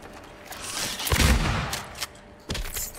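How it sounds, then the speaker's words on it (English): A shotgun fires in the video game Silent Hill 2 (2024) in a prison setting, one heavy close blast followed by a mechanical rack or creak and another sharp report near the end. "I'm gonna use the shotgun instead."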